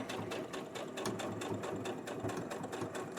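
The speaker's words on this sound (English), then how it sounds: "So I'm just doing another straight stitch." Close and steady, a sewing machine runs a straight stitch on fabric with a fast, even mechanical patter throughout.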